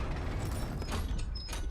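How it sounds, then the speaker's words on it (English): Clanking gear mechanisms inside a castle, heard as faint, low rumbling grinding with scattered metallic clicks and creaks, ratchet-like ticks standing out briefly near the end, no talk. "That's a lot of mechanisms."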